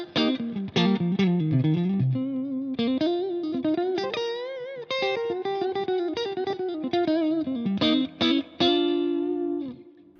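Clean electric guitar through a Marshall-in-a-box amp pedal with reverb, playing a continuous melodic line of single notes and bends with a ringing, reverberant tail, no talking.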